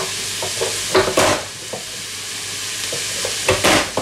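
Potato pieces tipped into an Instant Pot, several clattering thuds and scrapes in bursts over a steady sizzling hiss, close and fairly loud, no voices.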